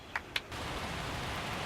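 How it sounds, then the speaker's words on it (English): Rain falling in the golf video game Everybody's Golf VR, a steady even hiss of rainfall that starts after two short taps and carries on without talk. "Oh, it's raining."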